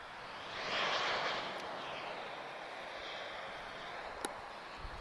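An Airbus A319 at Lisbon Airport gives a faint, distant, quiet jet rush that swells briefly and then fades to a low, steady hiss.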